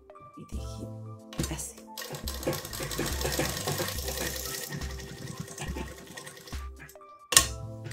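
A sewing machine stitches top fabric in bursts, running in steady rapid runs between short pauses, close and fairly loud.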